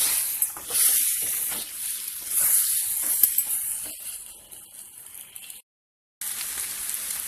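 Eggs sizzle in a pan over a medium flame for a tamarind-leaf (chinta chiguru) egg curry: a steady, close hiss and crackle with no talk, cutting out briefly near the end before resuming.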